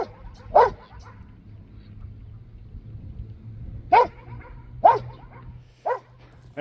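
A dog on a small homestead with raised garden beds barks in four or five sharp, separate woofs a second or more apart, fairly close and loud against a quiet outdoor background with a low hum.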